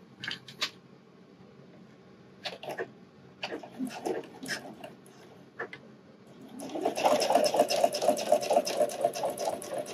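A home sewing machine stitches the hook side of a wireless bra: a few short start-stop bursts, then a sustained fast rattling run of stitches in the last few seconds, close and moderately loud.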